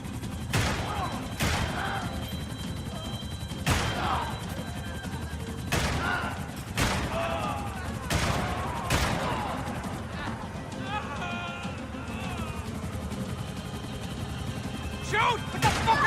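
Gunfire in the Xbox 360 game Max Payne 3 comes as loud, sharp shots spaced a second or two apart over a dense action soundtrack, with voices talking amid the shooting.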